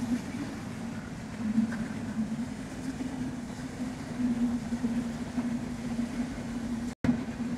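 A passing train rumbles steadily and loudly from start to end, a continuous low drone with faint rail clatter, cut by a very brief dropout near the end.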